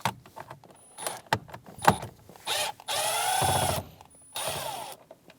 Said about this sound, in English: Using a 7mm socket, we're going to remove the bolt that is on the bottom of the steering wheel.